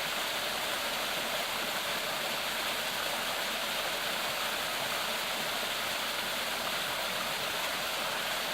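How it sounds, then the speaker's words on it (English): Waterfall on Big Creek along a mountain trail, a steady broadband roar of falling water that stays constant and fairly loud throughout, with no voices over it. "Falls on Big Creek."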